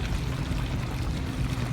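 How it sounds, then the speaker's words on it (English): A running Samsung dishwasher with a leaking vent door gives off a steady, soft pouring and streaming wash of water, continuous and fairly faint, heard alone. "And the dishwasher is running right now."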